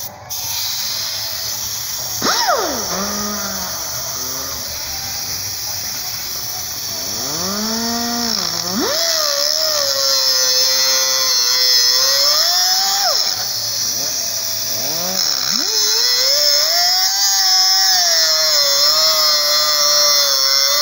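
A small pneumatic cutting tool saws through the front beam of a VW Combi T1/T2, a loud continuous high whine that repeatedly drops and rises in pitch as the cut loads and frees it, heard alone.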